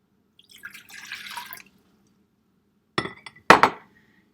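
A cup of water is poured into a mixing bowl for gluten-free bread dough, making a brief splashing rush, then a pause and a few sharp glassy clinks and knocks.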